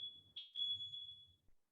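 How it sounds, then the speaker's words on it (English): Smoke alarm shrilling with a single piercing high tone for about a second, fairly faint over a quiet indoor room with a low murmur beneath. "We got a little smoke alarm."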